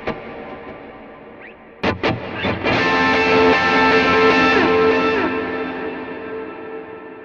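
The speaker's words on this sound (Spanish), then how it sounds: "Intentemos colocar un tube screamer" Electric guitar through a tube screamer overdrive on a Nux MG-300 multi-effects unit with reverb: a few picked notes, then a loud sustained distorted chord ringing out and slowly decaying.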